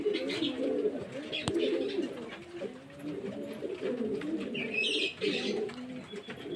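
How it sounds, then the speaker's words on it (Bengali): A flock of pigeons feeding together in a tight circle on a hot summer day, with steady, overlapping low cooing that rolls on continuously and fairly close. "দেখুন বন্ধুরা পায়রাগুলো কেমন মনোযোগ দিয়ে খাচ্ছে"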